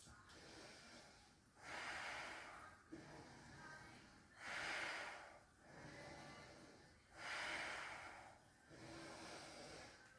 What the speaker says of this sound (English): Another 3 breaths.